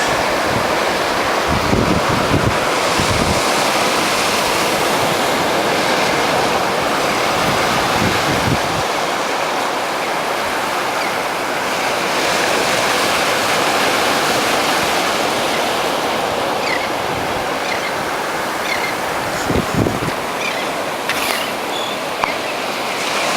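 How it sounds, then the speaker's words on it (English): Atlantic Ocean surf rolls in at Neptune Beach in Jacksonville, a loud continuous wash of breaking waves with heavy wind buffeting the microphone and occasional low thumps. "We're here at the Atlantic Ocean"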